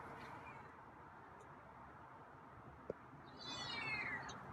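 A feral cat named Scruffy gives a single meow, rising and falling, toward the end over steady outdoor background noise, with a brief click just before.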